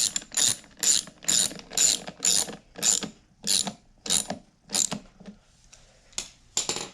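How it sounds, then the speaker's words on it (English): A screw on the air filter cover of a Briggs and Stratton small engine is tightened with a ratchet, giving about ten close, crisp bursts of clicking in a steady rhythm with short pauses between them. "Then you tighten the air filter screw cover screw."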